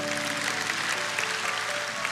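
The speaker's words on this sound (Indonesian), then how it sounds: "kita berikan tepuk tangan untuk Tuhan" A church congregation claps for God in a dense, continuous burst of applause, loud and even from start to finish with no talking over it.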